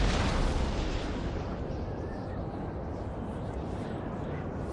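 Artillery cannon fire in Napoleon: Total War at the Battle of Waterloo, a dense, continuous rumble of booming blasts that stays loud throughout, with speech faintly mixed in.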